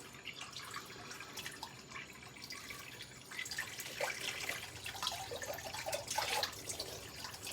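A tap runs into a sink with faint, irregular splashing and dripping that grows somewhat louder and denser toward the end, with no talking.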